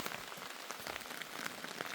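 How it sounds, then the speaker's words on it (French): Steady rain patters down at night outside a hammock bivouac in the mountains, a dense, even hiss of drops striking surfaces, close and continuous with no voices. "c'est un bruit excellent parce que tu sais que dehors il y a la pluie"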